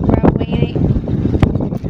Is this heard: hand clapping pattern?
no